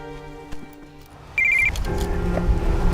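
A single short electronic phone ring trills briefly, then a louder rumbling background sound takes over.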